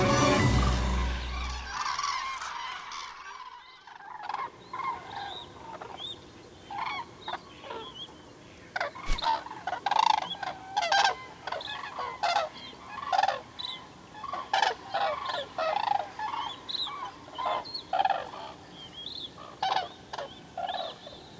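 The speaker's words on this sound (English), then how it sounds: "The wild geese calling wake our souls to life." Wild geese calling across a wetland, a flock giving repeated honking cries at irregular intervals, some overlapping, moderately near and clear over a quiet open background.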